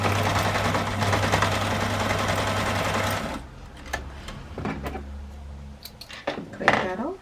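Sewing machine stitching a crossbody bag seam, a loud close whir for about three seconds that stops abruptly, followed by softer clicks and handling sounds as the stitch is reversed, with faint talk.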